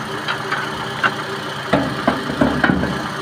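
A Toyota RAV4 16-valve engine idles steadily with the hood open, a low mechanical hum broken by a few soft knocks and clicks at close range, with no voices over it.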